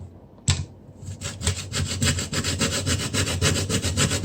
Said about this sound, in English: Let's grate the nutmeg.